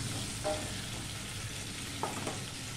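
Potatoes frying in oil in a kadai for mutton kosha, giving a steady close-up sizzle with a few brief stirring clinks.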